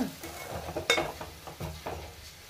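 Egg curry being stirred in a pan, a spoon scraping and clacking against the metal in a few distinct strokes over a soft sizzle, close and fairly quiet.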